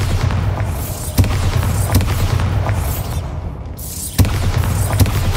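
Bombarda blasting spell cast in the Hogwarts Legacy game: a string of deep, loud booming explosions, several sharp impacts roughly a second apart over a rumbling, dense background of battle noise.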